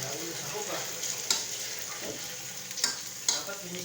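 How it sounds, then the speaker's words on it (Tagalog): Minced garlic, onion and ginger sautéing in a deep wok, a continuous hiss of frying oil broken by a few sharp utensil taps, without anyone talking. "minikos-mikos na natin ang ating bawang sibuyas at luya"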